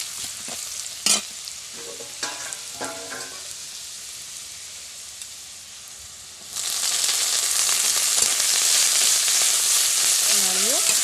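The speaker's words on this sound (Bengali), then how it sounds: "তেলে একটু হলুদ একটু লবণ দিয়ে নাড়িয়ে পালং শাকটা দিয়ে দেবো।" Spinach and prawns fry in hot oil with turmeric and salt, giving a loud, steady sizzle and a few sharp clinks of stirring, with a quieter stretch before the frying swells up again and fills the rest.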